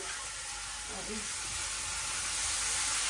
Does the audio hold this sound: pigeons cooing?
no